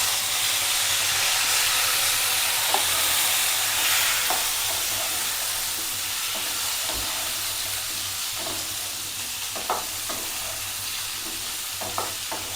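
Pumpkin, potato and chopped vegetable stems fry in a pan after a spice tempering, giving a steady hissing sizzle with occasional soft knocks and scrapes of stirring, close up and without talk.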